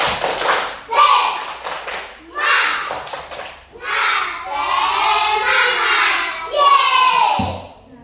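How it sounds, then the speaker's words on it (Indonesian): A fourth-grade class performs a rhythmic clapping routine together, bursts of group claps alternating with children's voices chanting in unison, loud and close. "Tepuk semangat."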